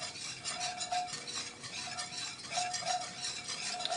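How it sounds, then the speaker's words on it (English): A quarter cup of melted butter and about three tablespoons of flour being whisked into a roux in a pan, soft rapid scraping and faint sizzle, quiet and close with a few metallic whisk clinks. "Whisk that well."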